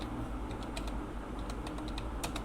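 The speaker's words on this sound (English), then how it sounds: "now you might type this command" A command typed on a computer keyboard, a quiet run of close, light key clicks in an uneven rhythm over a faint steady hum, with no talking.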